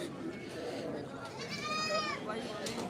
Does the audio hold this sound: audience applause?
no